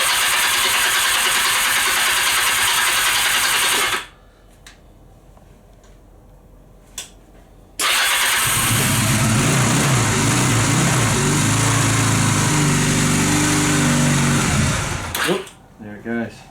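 Honda CB250 motorcycle engine with a fuel issue turning over, firing up and running loud and close, then cutting out briefly before the rough, steady idle returns and drops off near the end.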